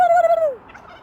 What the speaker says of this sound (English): Right behind that fence, there are a couple of big gobblers